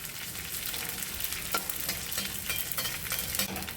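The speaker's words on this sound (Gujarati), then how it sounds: "હવે આપણે ગુંદ તળી લઈશું." Edible gum (gond) fries in hot ghee, a dense continuous sizzle with crackling pops and occasional stirring scrapes, close by and steady, with no voices.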